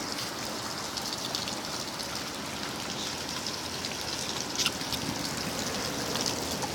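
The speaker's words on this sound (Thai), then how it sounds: "ฝนก็ยังไม่หยุดตก" Heavy rain pours steadily during a storm in Chonburi, a dense, even hiss of drops striking surfaces with occasional nearer splatters, heard alone and fairly faint.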